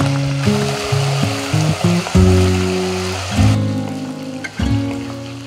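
Garlic, curry leaves, green chillies and spices sizzle and crackle in hot oil in a pan for Chettinad vendakkai puli mandi, a steady close frying hiss under a bright repeating musical backing.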